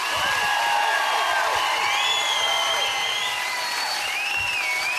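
Studio audience at a live televised singing competition applauding and cheering for the vocal coaches, a dense steady wash of clapping with whoops and whistles rising through it, loud and continuous throughout.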